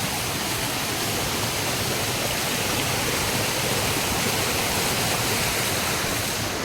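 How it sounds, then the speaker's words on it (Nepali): A flooded mountain stream rushes in a dense, steady roar, close and loud, with no pauses or other sounds standing out. "खोलामा बाढी आएको छ"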